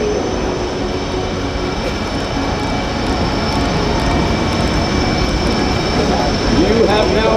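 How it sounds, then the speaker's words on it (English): RCAF Snowbirds jets roar overhead on their last pass of a night air show at Aero Gatineau-Ottawa, a loud, sustained engine rush with rising whine, heard together with an announcer's voice and crowd ambience. "Snowbird pitch, which means this was the last pass of the Snowbirds for this evening."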